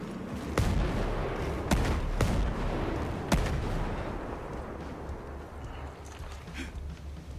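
Repeated sharp blasts from the Walker robot in Ghost Recon Breakpoint firing missiles, four distinct loud booms spaced irregularly over a constant low rumble of game noise.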